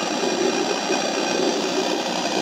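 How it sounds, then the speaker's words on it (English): An engine sound module plays simulated motor noise through small onboard speakers in a Traxxas TRX4 Sport RC truck, a steady, dense droning hum that holds level throughout without any voices. "I've got the module inside for the engine sounds."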